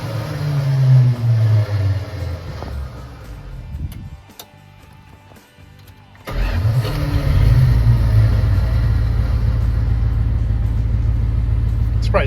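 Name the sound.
Dodge 4x4 truck engine starting and idling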